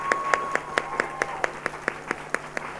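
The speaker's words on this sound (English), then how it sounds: "Let's give them a big round of applause," Applause for children at a school event, heard as a steady run of about a dozen evenly spaced, distinct claps over a faint tone and low background hum.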